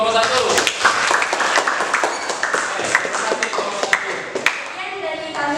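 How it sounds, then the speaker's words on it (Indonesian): A classroom bursts into applause for a student group, a dense run of close, uneven claps and taps from many hands that carries on for several seconds, with voices mixed in. "kita berikan aplaus untuk kelompok 1"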